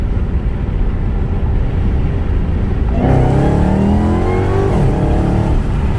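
A car in second gear pulls hard from a steady cruise, engine note climbing loudly under load on a hot day, heard from inside the vehicle without any talking.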